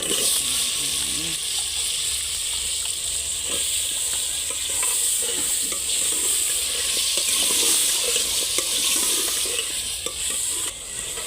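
Potatoes frying and being stirred into a spiced masala in a pot, with a steady sizzle and scraping stir strokes continuing throughout.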